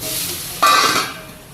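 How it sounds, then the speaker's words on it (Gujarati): Curry leaves and green chilies dropped into hot oil for tempering burst into a sudden loud, close sizzle that hisses strongly for a moment, then slowly fades. "લીમડો અને લીલા મરચાંનો વઘાર કરી દેવાનો"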